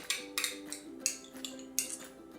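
Cream cheese and mayo are stirred together in a bowl, with a spoon scraping and knocking against the sides in quick, uneven strokes, close and fairly quiet, with no talking.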